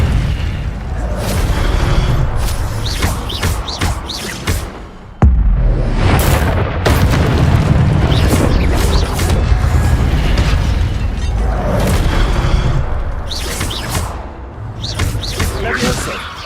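Fire spells and other spell effects from the Hogwarts Legacy video game: loud, dense bursts, booms and whooshing blasts that keep coming throughout, with a voice calling out over the action.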